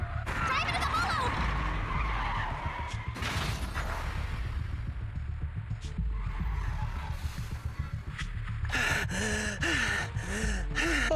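Car skidding in the Zenless Zone Zero video game as a truck threatens a crash: scraping, screeching tire noise runs through the scene with loud game effects and gasps, under music.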